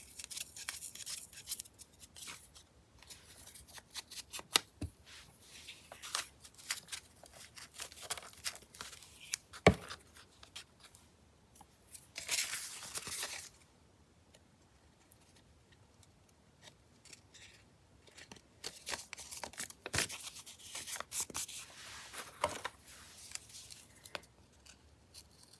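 Old, soft paper being cut and torn by hand, heard as faint, irregular snips, crinkles and rips with scattered sharp clicks and quiet gaps in between, close up and fairly quiet.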